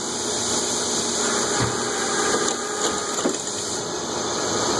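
A refurbished Lawson Classic paper drill runs with a steady machine drone and whine, with its spindle at 1500 RPM while drilling stacks of books, joined by a few faint thumps and creaks.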